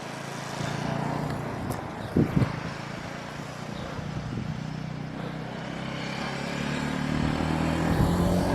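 A motorbike engine drones and revs steadily as a learner rides it, with brief thumps partway through and the engine note rising toward the end, no talk over it.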